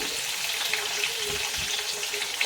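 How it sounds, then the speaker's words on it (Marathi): Green chili, garlic and curry leaves sauté in a hot pan, giving a loud, steady, close sizzle that hisses on without a break and with no voices. "आपण हिरवी मिरची, लसूण, कढीपत्ता टाकू आणि चांगलं परतून घ्यायचं"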